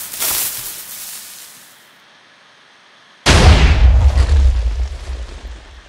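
TNT cannons in Minecraft fire together, starting with a loud blast that decays into a fading rumble, then a second, heavier wave of deep booming explosions that rolls on to the end, loud and close, with no talking.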